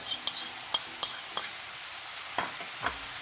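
Chili and palm sugar frying in a pan for a sweet tomato sauce, stirred with a utensil: a quiet sizzle broken by several soft scraping strokes and light clinks against the pan.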